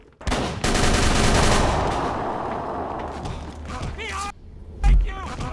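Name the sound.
cannon fire in Call of Cthulhu: Dark Corners of the Earth video game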